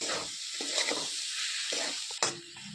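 Chopped tomato being stirred and fried in a pan along with potato and mushroom for a mushroom masala, a steady close sizzle with spatula scrapes and soft knocks against the pan.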